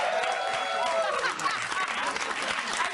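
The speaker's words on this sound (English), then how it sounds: "I just wanted to hear people clap for me." A studio audience applauds on a comedy talk show, steady clapping from a crowd that swells and then thins, with some voices mixed in.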